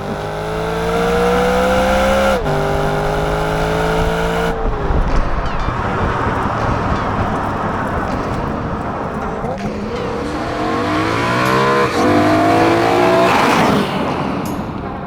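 A BMW E93 M3 engine revs hard on the move, rising and falling through gear changes with a sharp drop in pitch at each shift, loud and close, then a sustained rising roar and a brief tire squeal.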